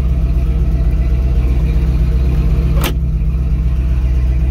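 A 1968 Pontiac Firebird 400 convertible engine idles steadily while warming up, a loud, close, even low rumble with one brief click partway through.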